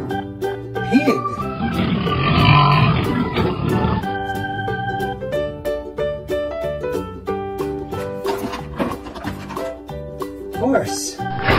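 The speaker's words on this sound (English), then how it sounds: "Pig." Low, rough animal grunts and snorts mixed with a busy background of music-like tones and other noise.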